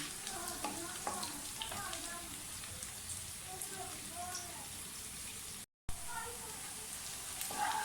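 Onions fry in a pan for a lauki gosht curry, giving a steady crackling sizzle with scattered pops. Quiet talk runs underneath, and a brief silent gap breaks the sizzle near the end.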